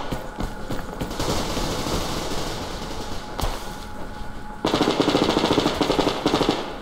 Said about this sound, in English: There's gunfire everywhere